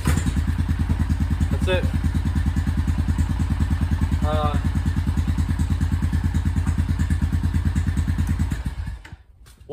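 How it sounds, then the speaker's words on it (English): A 1997 Honda Foreman 400 4x4 quad engine runs steadily with a loud, even, throbbing idle close by, a brief spoken phrase over it, before the engine cuts out near the end. "we're going to go ahead and pull start it, and I'll show you, this thing starts so easy"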